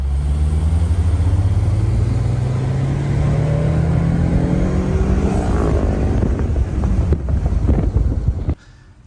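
A Honda S2000 with an NA performance package accelerates hard in third gear, its engine note climbing steadily and loudly under heavy wind buffeting before cutting off abruptly near the end.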